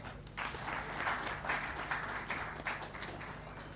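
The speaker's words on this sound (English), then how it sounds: "Another round of applause for Keith Karegira, the CEO of Capital Markets Authority." An audience at a corporate event in Uganda applauds the CEO of the Capital Markets Authority, a soft, steady round of many hands clapping heard from a distance.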